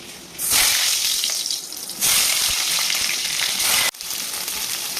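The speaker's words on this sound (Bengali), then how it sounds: "বেগুনটা একটু ভেজে নেব" Eggplant slices frying in a pan in a home kitchen for a hilsa mustard dish, a loud, steady hiss of sizzling oil that swells in bursts as pieces go in, with a brief cut partway through.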